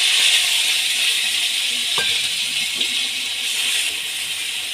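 Chopped tomato sizzling in hot mustard oil in a wok, a steady bright hiss of frying close by with a brief clink partway through and no talk.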